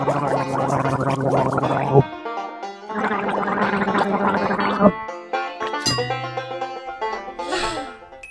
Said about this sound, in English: When you gargle, you rinse your mouth and throat and then spit.